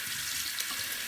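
Tap water runs steadily into a sink as a makeup brush is rinsed under the stream, a close, continuous splashing hiss with no talking.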